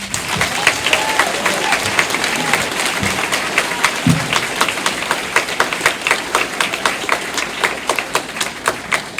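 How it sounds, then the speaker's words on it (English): An audience at a school completion ceremony applauds staff members, steady dense clapping that fills the room with sharp individual claps standing out near the end. "I'd like to take a moment and for us all to applaud them as well."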